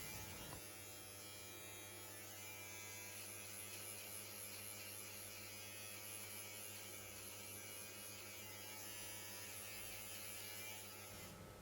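An electric beard trimmer buzzes continuously at close range, cutting diagonally across a sideburn at a shorter guard setting to blend it into the beard. The hum stays steady and fairly quiet throughout, with no speech.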